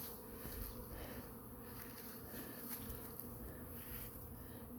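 Honey bees buzz at a hive entrance after several days of rain, a dense steady drone of many insects with individual bees swelling past close by.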